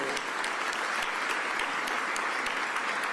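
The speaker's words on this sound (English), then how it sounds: "let's give our Mayor Sherelle Parker a real big round of applause" A crowd at a Philadelphia press conference about a new 76ers arena applauds the mayor, with loud, sustained, dense clapping close by.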